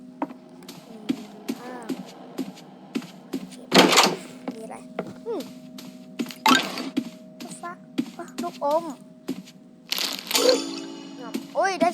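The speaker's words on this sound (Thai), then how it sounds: "เปิดประตู" Doors opening in the horror video game Doors, with repeated heavy thunks and cracks at irregular intervals over twelve seconds, mixed with game tones and a person speaking over them.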